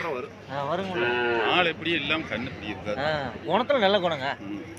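A Bargur breed cow lowing loudly and close at a cattle market, with long drawn-out moos one after another. Someone talks over them throughout.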